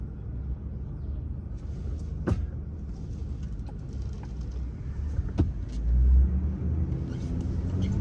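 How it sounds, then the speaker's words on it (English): Cars pull up on a narrow street in Bed-Stuy, Brooklyn, with a low, steady engine rumble, a few sharp clicks and a swelling surge near the end. No one talks. "Cars pull up."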